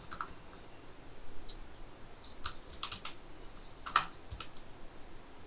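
Quiet, sparse clicks of keys on a computer keyboard while writing HTML code, a few irregular taps and short bursts with pauses between them and no talk.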